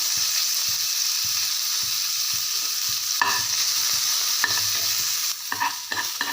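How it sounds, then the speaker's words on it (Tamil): Spices and chopped ginger sizzling and crackling in hot oil, a steady frying hiss with occasional stirring scrapes and pops, close up. "நல்லா எல்லாம் பொரிஞ்சிருச்சு"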